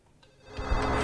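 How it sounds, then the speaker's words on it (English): A telephone ringing in the video game Silent Hill 4, a bell-like ring swelling up from near quiet into a loud, bright, sustained burst. "I have to answer the phone!"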